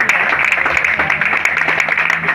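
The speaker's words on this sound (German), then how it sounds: "Deshalb super Applaus nochmal" Audience at a motorsport award ceremony for a KTM racing team gives rapid, steady applause, a dense continuous patter of clapping heard close and fairly loud with a faint voice beneath.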